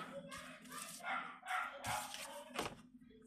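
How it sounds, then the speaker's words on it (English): Small indoor dog barking and yipping in a few quick bursts, close by and fairly faint, with no talk over it. "I apologize for my dog"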